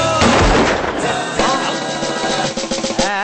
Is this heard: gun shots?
yes